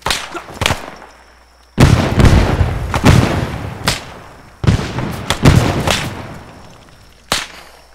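Grenade blasts in the Vietnam War game SOG: Prairie Fire, several sharp loud explosions each trailing into a rumbling decay, with brief crackling pops between them.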